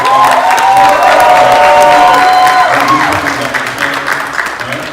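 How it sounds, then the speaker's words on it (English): A crowd applauds loudly and steadily, with cheering mixed in, the clapping fading slightly toward the end. "Let's give them a big round of applause."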